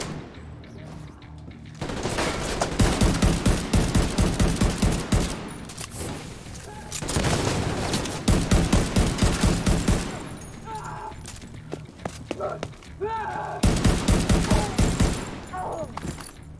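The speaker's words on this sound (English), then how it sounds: "Fucking miniguns on fire." A minigun in the shooter game The Division 2 rattles in long sustained bursts: three extended streams of rapid fire, loud and close, with short pauses between them and scattered game effects.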